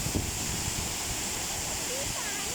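Khlong Lan waterfall in Thailand, a steady, dense rush of falling water heard close and loud, constant throughout with no clear speech over it.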